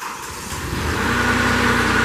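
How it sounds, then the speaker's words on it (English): The Kohler engine of a 2015 Moffett M8 truck-mounted forklift cranks and catches, settling into a loud, steady rumbling idle close by. "He's gonna fire this Kohler engine up to life."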